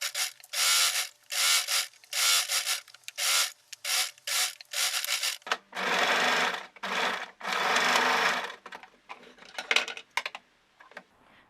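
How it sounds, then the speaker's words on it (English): Sewing machine stitching garment cuffs in repeated bursts of running, each lasting about half a second to a second and a half, separated by short pauses; close and clear with no talking. "Sew it up to there, and at the same time you're going to also sew your cuffs."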